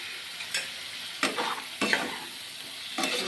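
Spice paste with a pinch of sugar for a cucumber curry fried and stirred in a pan: scraping strokes of a spoon at irregular intervals over a soft, steady sizzle, close and fairly quiet, with no talk.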